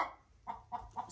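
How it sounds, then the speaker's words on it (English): An unhappy broody hen clucking in a chicken coop, giving a short series of four low, grumbling clucks at close range, with no talking. "This, we have an unhappy hen right now. I think she's broody."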